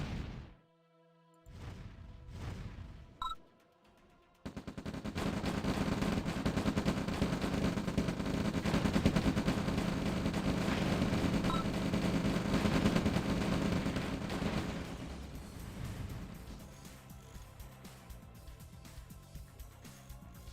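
Mines blowing up amid sustained gunfire in the real-time strategy game Red Alert (OpenRA), with dense overlapping blasts and rattling shots filling the middle of the stretch after a few sparse early bangs, then thinning out toward the end.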